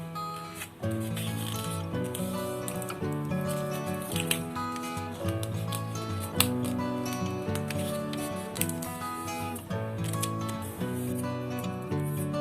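Scissors snip through yellow paper while an origami pinwheel is made. The cutting and rubbing sounds are soft and repeated, set under steady, prominent background music with no speech.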